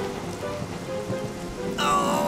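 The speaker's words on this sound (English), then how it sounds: "Why does it have to rain now?" Rain falls steadily in a children's train cartoon, a loud even hiss of drops on surfaces throughout, with a brighter tonal sound breaking in near the end.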